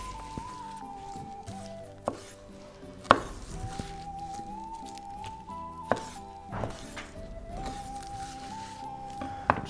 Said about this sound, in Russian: Болгарский перец нарезаю крупными перьями.